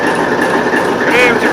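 A TEP70 diesel locomotive engine warming up, a loud steady drone with a rising whine near the end, with talk over it.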